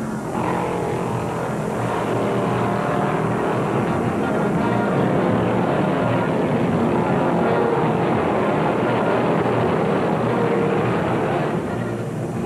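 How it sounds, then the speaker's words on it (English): A Dodge Charger race car with a Hemi engine, NASCAR number 96, roars down the front straight on the white-flag lap, its engine noise a loud, sustained, steady blare with no talk. "Elder's Dodge number 96 looks and sounds stronger on every lap as he screams down the front chute for the white flag"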